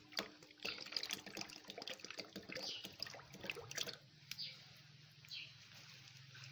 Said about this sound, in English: Pour the oil into the production bowl.